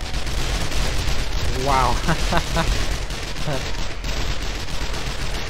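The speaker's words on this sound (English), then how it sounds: "And this MG is actually my favorite gun." Machine gun firing nonstop during a zombie horde night in 7 Days To Die, a dense, loud rattle of rapid shots with a short exclamation from a player over it.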